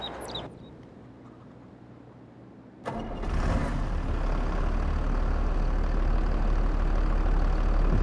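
Tractor engine in the video game Farming Simulator 22, starting up after a quiet stretch with a brief high whine, then settling into a loud, steady rumble that runs continuously to the end.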